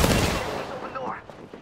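Gunfire from the Apex Legends video game, including a shotgun, opens with a loud burst of rapid shots that fades into a fainter, scattered tail.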